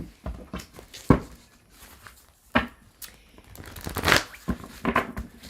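Tarot cards are shuffled close up, giving soft riffling bursts and papery slaps at an uneven pace, with no speech.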